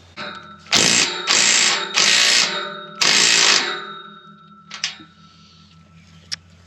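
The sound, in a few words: tightening a bolt with a ratchet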